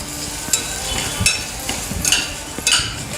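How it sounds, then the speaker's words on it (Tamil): Peas being stirred into masala in a pan, with a spoon scraping the pan in several sharp clatters over a steady background sizzle, heard close and alone. "இதையும் சேர்த்து நல்லா கிளறி விட்டுடலாம்."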